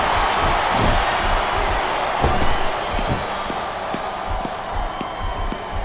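Steady arena crowd roar in the wrestling video game SmackDown vs Raw 2007, a dense continuous murmur with scattered sharp thumps from the ring.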